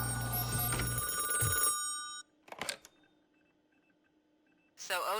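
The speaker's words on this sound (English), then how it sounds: "This will trigger the phone to ring." An electronic telephone bell rings in RoboCop: Rogue City. A dense ringing burst gives way to near silence, then a short chime and a voice returning at the end.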